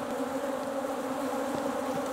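Steady, close buzzing of many honeybees, a continuous droning hum with no voices.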